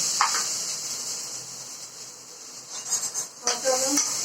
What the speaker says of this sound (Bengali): আলুটা কড়াইয়ে আমি এখন ফ্রাই করতে দিয়েছি